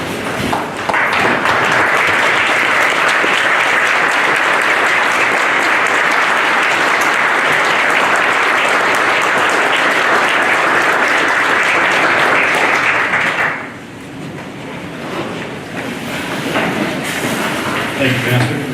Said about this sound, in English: let us applaud their service